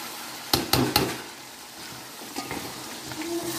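Potatoes and peas being fried in an oily masala, with a few sharp stirring scrapes early on over a low steady sizzle, then quieter intermittent stirring; no talking.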